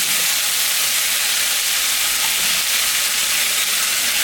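Ginger, cumin and chilli paste hits hot oil in a pan and sizzles, a steady loud hiss of frying that holds throughout with no talk.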